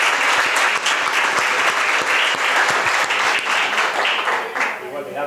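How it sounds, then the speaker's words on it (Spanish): Sustained, dense applause from an audience at a literary gathering with author Enrique Juncosa, loud and steady for several seconds before easing slightly at the end. "Un aplauso para ellos."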